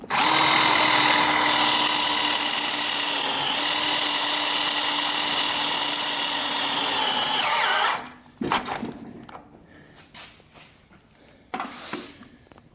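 Power drill driving screws into wood: a loud continuous whine for about eight seconds that drops off, followed by several short bursts and clunks as the tool stops and restarts.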